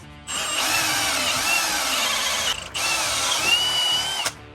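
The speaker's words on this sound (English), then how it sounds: "now we're gonna go ahead and drill it" A loud, close power drill with a reamer bit runs in one long high whine through a Jeep WJ Grand Cherokee steering knuckle, briefly cut out, then resumes before stopping.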